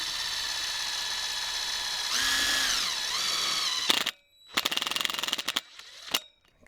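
A power drill drives a self-tapping screw into a vinyl fence post, a steady whine that pitches down under load, then stops and resumes in short, stuttering bursts, close and fairly quiet.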